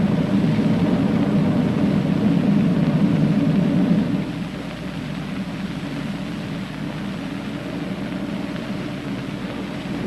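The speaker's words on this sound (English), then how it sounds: "Sounded like our rockets were throttled back." Radio-drama spaceship rockets roar as a dense, steady rumble, then drop noticeably quieter partway through as they throttle back, continuing at a lower level with no talk over them.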